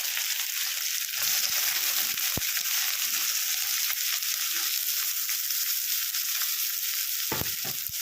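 Chopped onions sizzle in hot oil with whole spices for a fish curry, a loud, continuous hiss broken by a few sharp knocks of a spatula against the pan.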